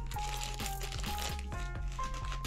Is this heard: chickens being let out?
no